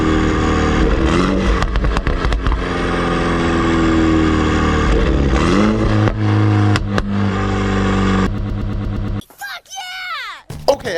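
A Mini Cooper fitted with a SuperSprint midpipe revs loudly and steadily for about nine seconds, engine roar with rising and falling pitch under excited talk, then drops away to a few sharp pops near the end.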